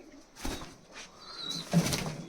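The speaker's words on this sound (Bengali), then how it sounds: "তো বন্ধুরা পায়রা পেয়ারটা আমরা ছেড়ে দেখাবো" Giribaz pigeons released from a loft, with soft cooing calls and faint wing flutter in short bursts, fairly close and fairly quiet.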